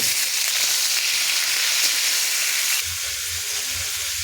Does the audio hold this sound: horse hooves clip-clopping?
no